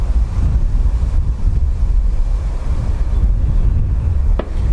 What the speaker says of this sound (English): sustained winds 11 knots, gusting 19 according to ATC just there